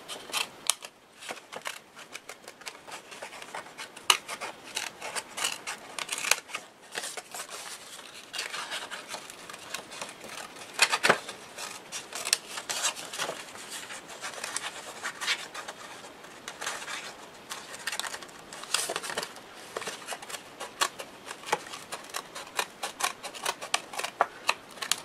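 A craft knife slices through paper for a handmade mini album, giving soft, quiet scratchy cuts and light rustling taps scattered irregularly over a long stretch.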